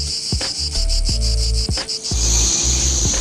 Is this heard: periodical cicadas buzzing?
yes